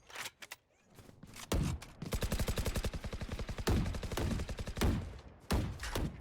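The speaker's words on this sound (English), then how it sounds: "Gonna waste half of his bullets taking that wall down" Rapid bursts of automatic rifle fire in Valorant as a player shoots down Sage's barrier wall, loud and close, with steady rhythmic shots broken by short pauses and a few single cracks.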